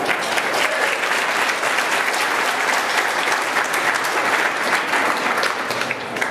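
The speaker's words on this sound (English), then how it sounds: "Give them a round of applause." Sustained audience applause at a formal event fills the clip, a dense, steady wash of many hands clapping at even loudness throughout, with no speech over it.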